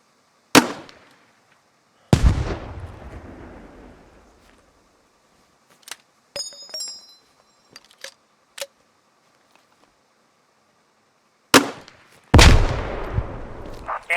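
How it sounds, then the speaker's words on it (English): Underslung 40mm grenade launcher fired in the video game Squad: sharp bangs with trailing rumble, two early and two late, loud and close, with small clicks and mechanical reload sounds between them. "Grenadiers in your squad carry a grenade launcher slung under their primary weapon. These fire 40mm grenades"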